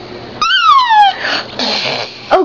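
A small child imitates a horse, giving a high, falling whinny-like cry followed by breathy squeals and a short yelp, close and loud in a quiet room.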